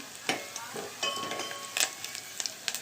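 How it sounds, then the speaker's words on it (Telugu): Seasoning for tomato rasam fries quietly in a pan, with a soft steady sizzle broken by a few sharp clinks and scrapes of a spoon stirring against the metal. "ఈ విధంగా వేగుతుంది కదండి."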